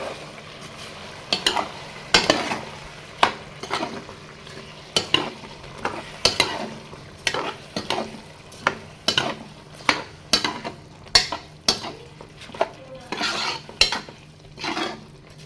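A spoon repeatedly scrapes and stirs soaked rice into vegetable pulao in a pan, a steady rhythm of loud, close strokes lasting the whole stretch with no talk.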